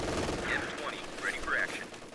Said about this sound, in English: One of our fighting positions is sustaining fire.